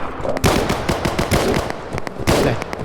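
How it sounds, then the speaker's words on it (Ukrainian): Loud, rapid automatic Kalashnikov rifle fire in the video game Operation: Harsh Doorstop, in repeated bursts, close and harsh, with sharp cracks rattling continuously throughout. "Якісь калаші стріляли, чи що?"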